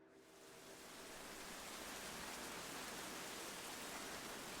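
Steady rain pours in the game Levar's Life, a dense, even hiss that swells in over the first second and then holds constant and fairly soft, with no voices.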